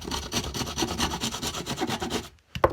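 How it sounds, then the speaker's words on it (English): A Shinto rasp files the corner off a rounded tip for a cigar box guitar, a rapid run of rough, evenly repeated rasping strokes that stops, then returns as two short scrapes at the end. "So what I do is I get the Shinto and I just take the corner off."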